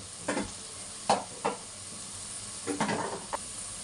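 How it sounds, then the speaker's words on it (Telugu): Crabs, onions and drumsticks frying in oil in a pot, with a steady low sizzle broken by several short stirring scrapes and clatters, close and moderately loud. "ఆయిల్ వేసి ఎండ్రాయిలు వేపి ఉల్లిపాయలు ములక్కాయలు వేసాను."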